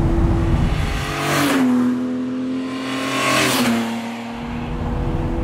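A Ferrari 250 GTO in original livery pulls along a road with its engine note rising and falling through two clear rev swells, heard from a seat behind it, with no talking.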